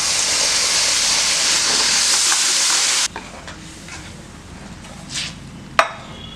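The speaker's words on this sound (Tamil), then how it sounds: "இதுக்கு தேவையான அளவுக்கு தண்ணி ஊற்றிக்கலாம்" A loud, steady hiss fills the first half as water is poured into a hot pan of tamarind curry, then drops away to quiet bubbling with a couple of soft clinks.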